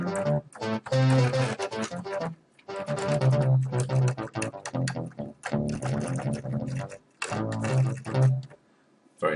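An Ensoniq ESQ-1 synthesizer patch plays a deep, round sine-style bass line with shifting notes and brief pauses, loud and upfront, no voices.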